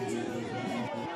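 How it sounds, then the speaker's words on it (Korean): Political supporters cheer and shout outside a court building before dawn as news arrives that the arrest warrant for their party leader was rejected, forming a dense, steady crowd roar of mingled voices. "지지자들이 환호성을 지릅니다"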